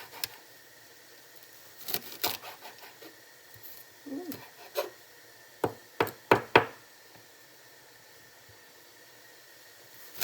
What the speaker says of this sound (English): It's not easy chopping it up, you know, folks.